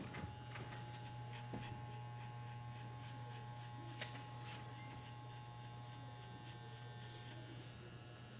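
Electric hair clippers cut hair at the nape during a salon classroom demonstration, giving a steady, close buzzing hum that runs unbroken throughout.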